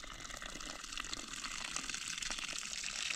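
Water pouring in a steady, faint gushing stream, continuous and fairly even throughout.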